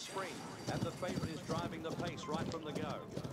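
Horses galloping in the racing game Rival Stars Horse Racing, a steady rhythmic drumming of hooves, close and continuous, with a voice talking over it.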